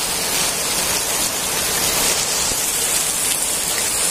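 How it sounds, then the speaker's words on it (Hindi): Heavy rain pours steadily beside the Markanda river, a dense, even hiss of drops on water and ground that holds loud and unbroken throughout, with no voices. "नीचे नदी में भी बहुत सुंदर बारिश"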